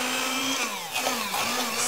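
An electric blender or food processor whirs steadily while mixing hummus ingredients with kosher salt, a loud continuous motor hum with slight dips in pitch as the load shifts.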